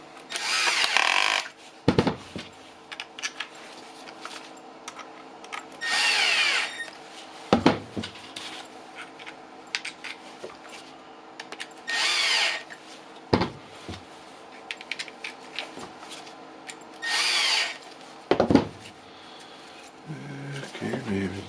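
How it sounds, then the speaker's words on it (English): Cordless drill running on a homemade battery pack built for Makita power tools, whirring in about four short bursts spread between stretches of someone talking close to the microphone. "Where's my drill?"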